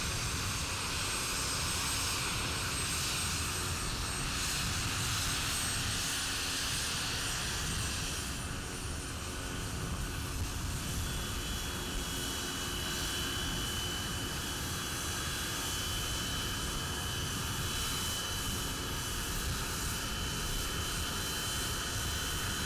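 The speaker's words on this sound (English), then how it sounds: "The calibration flight that had arrived last week started its engines and flew off just minutes after the jet arrived." The engines of a calibration-flight airplane on a remote St Helena airstrip run with a steady, loud jet roar that holds and shifts slightly as it powers up, with no voices.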